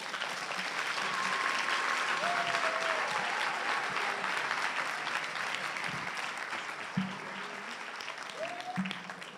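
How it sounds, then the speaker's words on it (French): Church congregation applauding in praise of Jesus Christ, a sustained, dense wash of clapping that fades slightly toward the end, with a few faint voices rising briefly above it. "Offrande d'acclamation au Seigneur Jésus-Christ."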